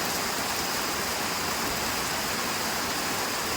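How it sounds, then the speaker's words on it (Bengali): Rain falls steadily outdoors, a dense even hiss of drops with no pauses and no voices over the short stretch. "কীভাবে সাউন্ড করছে শুনতে পাচ্ছেন আপনারা, অনেক ভালো লাগে বৃষ্টির সাউন্ড শুনতে।"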